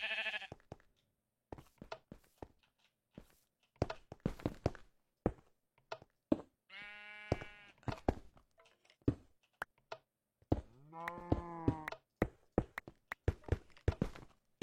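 Cows in a video game give two drawn-out, wavering moos a few seconds apart, mixed with a scatter of sharp knocks and thuds.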